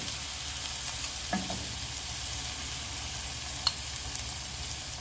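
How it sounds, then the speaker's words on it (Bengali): Spices frying in oil in a pan over a medium flame while making aar fish curry give a steady, close sizzle throughout, with a couple of brief clinks from stirring. "মশলা সব সময় মিডিয়াম ফ্লেমে ফ্রাই করতে হয়।"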